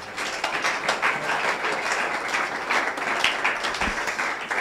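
A church congregation applauds for the Lord with a sustained, dense round of clapping from many hands. The applause holds fairly even throughout, and a dull thump is heard near the end.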